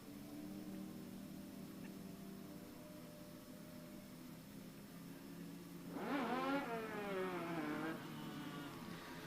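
Race cars pull off the track at the LVMS Bullring in Las Vegas during the Asphalt Nationals, one engine swelling up loudly and revving for a couple of seconds over a steady hum of distant engine noise.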